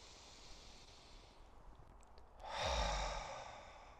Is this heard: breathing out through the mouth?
yes